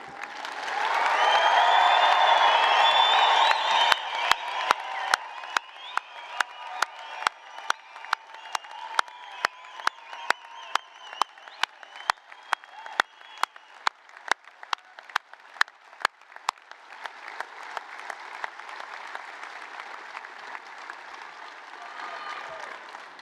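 Families and friends at a Leeds Law School graduation ceremony break into loud, sustained applause and cheering from a large crowd, with a rhythmic unison clapping section before the clapping thins out.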